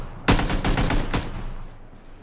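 AKM assault rifle fire in the PUBG battle royale game, a loud burst of several rapid close shots followed by a couple more single cracks, then fading reverberation, with no talk.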